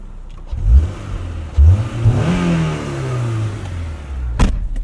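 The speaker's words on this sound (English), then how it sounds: "let's go out and attempt to drive this car safely on wet roads on a set of skinnier winter tires" A 2001 Honda S2000 on skinny X-Ice winter tires driving on wet winter roads, its engine revving up and shifting through gears, loud and close with rising and falling pitch sweeps.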